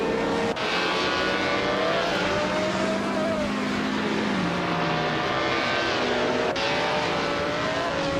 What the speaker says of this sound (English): Kevinana is driving a Gordini T32 from 1955 Dort.